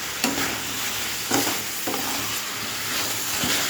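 Vegetables sautéing in a pan for a Bengali dish with Malabar spinach to follow, a steady sizzle broken by a few sharp scraping stirs of the spoon, close and moderately loud, with no voices.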